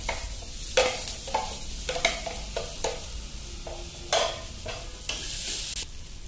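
Chopped garlic, ginger and green chili sizzle loudly in hot oil with mustard seeds, broken by repeated close stirring and scraping strokes, with no voices.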